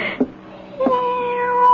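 A cat meows in a radio drama, two short close meows followed by a longer drawn-out yowl, clear and fairly loud against a quiet background.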